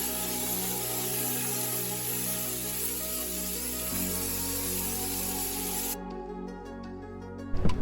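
An aerosol sprays a protective chip-proof coating onto an underslung LPG tank on a Sprinter van, giving a steady close hiss that stops near the end, followed by a few clunks.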